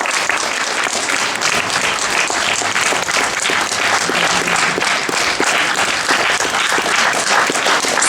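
Sustained, unbroken applause from a large audience at a volunteering awards gala, a thick, even roar of many clapping hands at full strength from start to finish.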